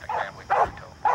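A Belgian Malinois police dog gives three short, close barks in quick succession, with no talk.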